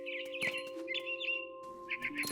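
Chirping calls of a mother bird in the video game What Remains of Edith Finch, several short bright tweets in bursts over a steady low game hum, fairly close.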